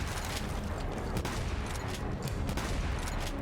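Dense, continuous gunfire from the video game Devil May Cry 5, a loud, unbroken barrage of overlapping blasts, with no talking.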